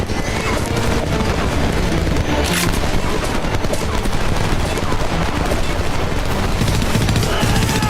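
Dense, continuous machine gun fire and booming gunfire in the war shooter Homefront, a loud unbroken fusillade filling the whole stretch, with shouting mixed in.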